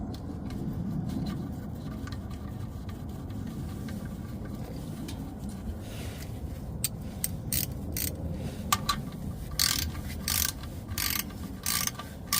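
A ratchet tightens the oil drain plug on a 2017 Nissan Versa Note, with rapid metallic clicking bursts that grow sharper and louder toward the end over a steady low background rumble.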